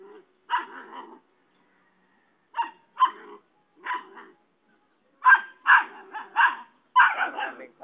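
A dog barks in several short, sharp bursts separated by pauses, close and loud, with the barks bunching into quicker clusters toward the end.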